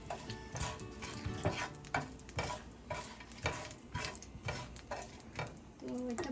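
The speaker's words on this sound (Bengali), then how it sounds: "একটু সল্ট দিয়ে দিচ্ছি কারণ তেল ছিটকে আসছে ওয়ান মিনিটের মতো একটু ভেজে নিব" Carp pieces frying in hot oil in a pan for a fish gravy, with steady sizzling and popping spatter punctuated by repeated clicking stirs, heard close and fairly loud throughout.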